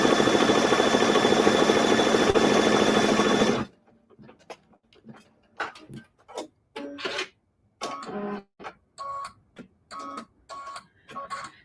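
An embroidery machine stitches a quilting design with a loud, continuous mechanical whir for a few seconds, then stops. Short, separate bursts of motor and clicking noise follow as it moves and repositions.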